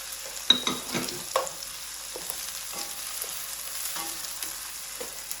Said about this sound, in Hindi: यहाँ पे आधा कप ऑयल हम डाल देंगे और इसमें प्याज डाल देंगे।